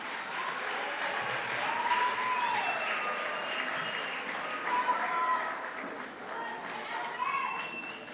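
Audience applause at a Moroccan public event, steady dense clapping filling the whole stretch with some crowd murmur and faint voices mixed in, fairly loud and sustained.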